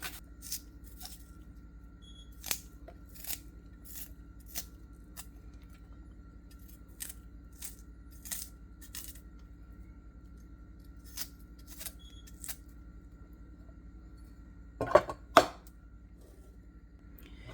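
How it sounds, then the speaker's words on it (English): Knife chopping red onions on a cutting board for a chicken and rice dinner, giving a steady series of sharp, close taps about once a second, with a quick louder double chop near the end and no talking. "cutting the onions, red onions"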